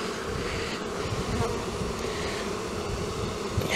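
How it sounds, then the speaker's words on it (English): Honey bees crowd the walls of a hive, their dense, steady hum filling the whole stretch close up and unbroken. "There's bees everywhere. There's wall to wall in here."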